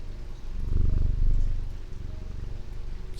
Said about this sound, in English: There's a cat here, and I can pet it.